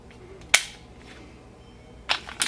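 A magazine drops out of a Taurus PT111 G2 9mm pistol, heard as a sharp metallic click followed a moment later by a clattering knock, close and crisp.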